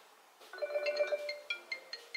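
Incoming call ringtone sounding through a BMW's CarPlay system, a melodic electronic tone that starts after half a second and repeats in a run of short, clear notes.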